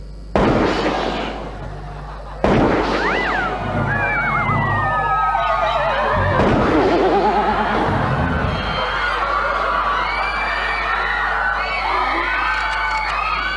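Revolver shots ring out in a Thai TV drama as two sharp, loud bangs about two seconds apart, followed by agitated shouting voices and a noisy background.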